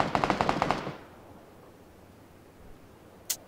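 A rapid burst of automatic gunfire rings out in the battle royale game PlayerUnknown's Battlegrounds: about seven quick, sharp shots in a row, then a long quiet stretch and one more distant crack.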